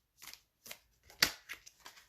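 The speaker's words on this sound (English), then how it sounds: "I oftentimes just shuffle like this." A tarot card deck is shuffled by hand in a quiet room, producing several short crisp riffling bursts separated by brief pauses, with one sharper snap near the middle.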